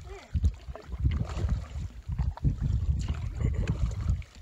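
Canoe paddle strokes dipping and pulling through lake water among sheltering islands, a steady series of soft splashes and swishes close by, with wind buffeting the microphone throughout.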